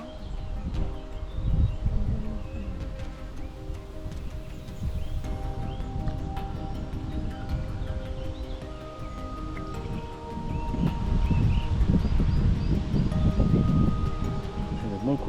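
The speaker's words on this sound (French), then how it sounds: "La rafale de vent qui arrive" A gust of wind sweeping over the Lacs des Hôpitaux in the Bugey's Albarine valley, a low buffeting rumble that swells strongly near the end, with voices and faint tonal sounds in the background.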